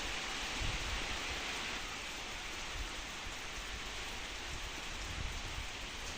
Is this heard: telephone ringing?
no